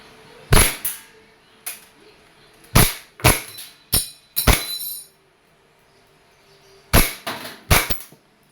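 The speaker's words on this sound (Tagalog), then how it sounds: "the Glock 18C by ENC Airsoft Gas Blowback Pistol. Semi and full automatic." An E&C Airsoft Glock 18C gas blowback pistol fires semi-automatic, a series of sharp, close cracks with snapping slide clacks, delivered singly and in quick doubles and triples with short gaps between.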